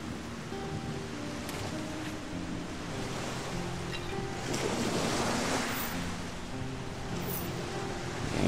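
Ocean waves wash onto a shore in the video game Risen, a steady broadband rush of surf with wind noise that swells louder toward the end, heard alone with no talk.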